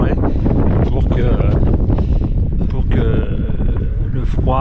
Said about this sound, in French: on a le vent qui vient forcément du nord ici